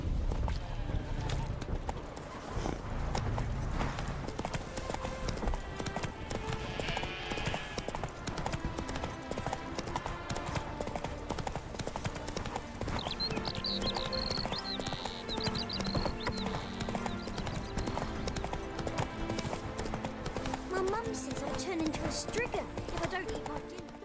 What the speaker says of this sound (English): Not so fast, Roach.